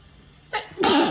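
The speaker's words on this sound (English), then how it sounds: "I keep having to sneeze" A single sharp sneeze, preceded by a quick breathy intake, close and fairly loud against a quiet room.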